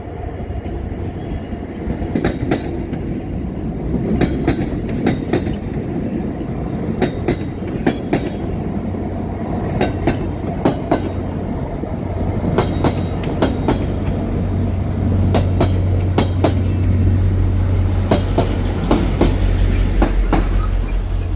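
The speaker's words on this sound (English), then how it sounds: "yeah, it's a Via train." A VIA Rail passenger train rolls past close by, wheels clicking in a steady clickety-clack rhythm over rail joints with a low rumble underneath.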